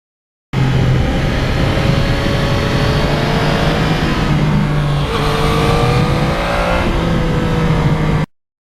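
Yamaha MT-09 motorcycle engine running steadily on a winter ride, a loud continuous drone with rising and falling pitch as the rider changes speed, alone with no talk.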